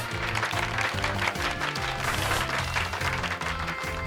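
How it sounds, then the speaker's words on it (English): Crowd applause for Pikachu in the Pokemon Scarlet and Violet video game, a steady dense clapping sustained throughout over a looping in-game music backing. "Give Pikachu a round of applause, everyone."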